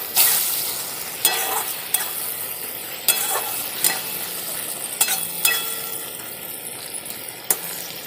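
Food frying in a pan with sugar and split green chillies being stirred, a continuous sizzle broken by regular sharp spatula scrapes and knocks against the pan.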